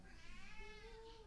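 A cat meows at home, a single drawn-out cry that rises and then falls. It sounds faint and somewhat distant against quiet room noise.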